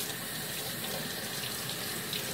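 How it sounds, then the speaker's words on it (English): Hot tap water runs in a steady, close stream while a sugar scrub is rinsed off an arm, an unbroken splashing rush with no talk. "And then I'm just going to rinse this off."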